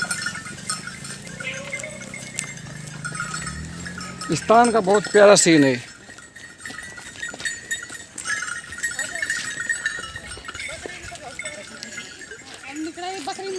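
A herd of goats at an ashram bleats in a few short, wavering calls midway, over steady outdoor background noise. Someone talks throughout.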